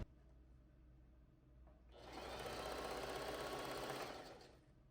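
A sewing machine stitching prom dress fabric with horsehair braid along the train, starting after a quiet moment and whirring steadily for about two seconds before slowing, close and fairly quiet.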